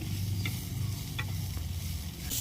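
Masala sautéing in a pan, a dense continuous sizzle with a few sharp scraping stirs of a spoon against the metal, heard up close with no voices.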